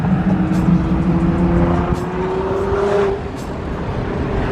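A Nissan GT-R's engine drones loudly and close, with a steady tone that rises gradually in pitch and then eases off, over a constant road roar.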